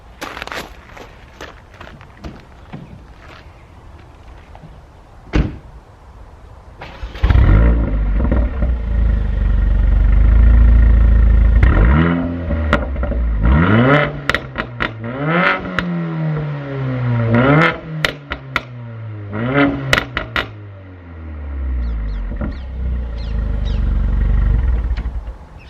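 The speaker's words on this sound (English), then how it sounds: "I have literally just had the Remus catback exhaust fitted to this car" A Mercedes A45 AMG with a freshly fitted Remus catback exhaust, still warm, idling and then blipped repeatedly, deep booming revs rising and falling with crackles between them, loud and close.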